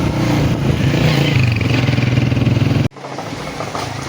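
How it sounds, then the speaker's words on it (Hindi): A freshly repaired motorbike runs close by with a steady, throbbing engine note, then cuts out abruptly near the end and is followed by a brief quieter rumble. "बाइक माशाल्लाह सेट हो गई है, अब बेहतरीन चल रही है।"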